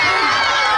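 A large crowd at the St. Patrick's Day parade in Tralee cheers and shouts steadily and loudly, a dense continuous roar of voices with children's shouts mixed in.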